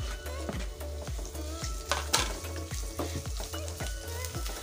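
Onion frying in a pan for chole aloo chaat: a constant sizzle overlaid with rhythmic, repeated spatula knocks and scrapes against the metal, close and busy, with a faint background hum.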